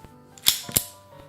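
Colt 1903 Pocket Hammerless pistol loaded from an aftermarket magazine, firing two sharp, close shots about a quarter second apart, followed by a faint click.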